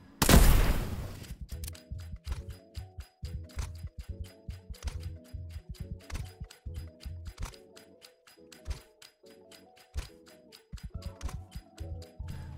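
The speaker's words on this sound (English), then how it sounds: "Go ahead and look at the flag and shoot it" Rapid gunfire in Fortnite Chapter 4 as a flag is shot, bursts of sharp repeated shots in quick rhythmic runs after an initial loud blast, close and punchy with brief gaps.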